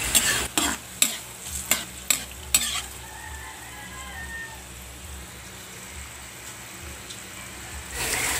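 A few quick clinks of a utensil against a pan, then a steady, soft bubbling sizzle of salmon belly simmering in coconut milk, with no one talking.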